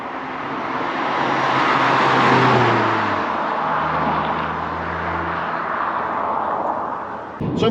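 A 2.0 VW Polo GTI engine pulls steadily and loudly accelerating in fifth gear, its drone rising and holding for several seconds before easing off near the end.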